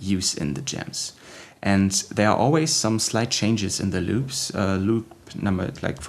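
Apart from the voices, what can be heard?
None of the usual background noises is heard.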